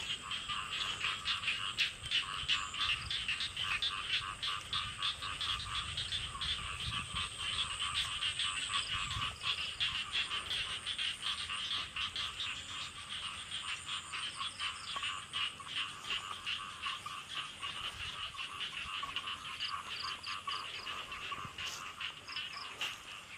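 A dense chorus of frogs croaking at night in a rice field behind a house, steady and continuous throughout, with rapid rattling pulses layered over one another at moderate distance and no speech.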